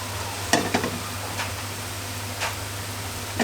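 Soft scraping and a few light taps of a spoon stirring caramel in a saucepan over lowered heat, over a steady low hum and faint sizzle.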